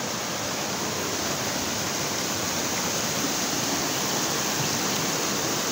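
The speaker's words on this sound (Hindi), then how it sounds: "इसमें काफ़ी ज़्यादा मकदार में पानी बह रहा है" A strong mountain spring stream rushes under trees, its dense, steady roar of flowing water close and loud and unbroken throughout, with no voices.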